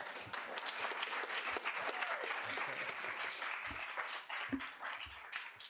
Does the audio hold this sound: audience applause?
yes